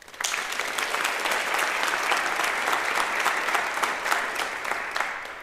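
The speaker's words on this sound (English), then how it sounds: "a round of applause for your continued support." An audience at a school district State of the District event applauds in a dense, steady burst of clapping that starts abruptly and holds for several seconds before tapering off.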